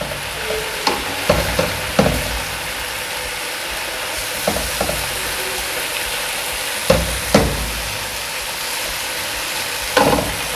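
Tandoori chicken tikka pieces frying in a pan on a stove over high heat give a steady, close sizzle broken by a handful of sharp pops and crackles, with no voices.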